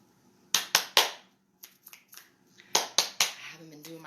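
Stiff, swollen hands doing clap snaps, a quick trio of sharp claps followed by softer snaps and another trio of crisp claps, close and dry, with a brief voice at the end.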